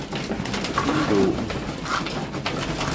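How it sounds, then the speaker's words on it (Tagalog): A large flock of pigeons coos steadily and close by at a feeding spot, with soft overlapping calls over a constant background hiss and rustle. "Grabe, ang daming kalapati guys."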